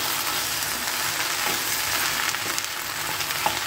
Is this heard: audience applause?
no